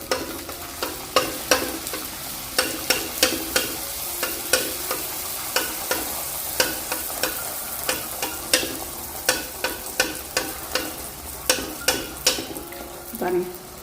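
Poori dough frying in hot oil, a steady sizzle broken by frequent sharp crackles and stirring clicks in an uneven rhythm, close and moderately loud throughout.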